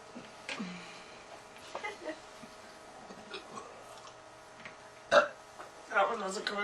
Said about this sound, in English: I think that was my loudest burp.